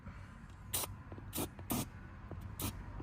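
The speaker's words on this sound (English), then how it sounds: "I'm just gonna go ahead and spray that with a little bit of Hilco lube" Several short hissing spray bursts from an aerosol can of lubricant, spaced irregularly, in an otherwise quiet room.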